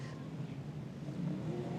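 V8 dirt modified race cars accelerate hard around the Archerfield Speedway dirt oval, a steady roaring engine drone held at a constant level through the brief moment.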